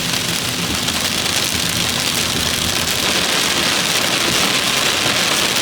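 Heavy storm rain pours steadily on an old Fiat car driving up a steep hill, a dense, continuous hiss with a faint engine rumble underneath.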